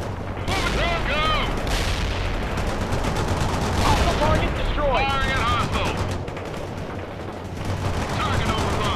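Rapid gunfire from units in the war strategy game World in Conflict, with sharp bursts and booming blasts rattling continuously through a dense battle mix, while whistling sweeps and radio-style voices sound over the fighting.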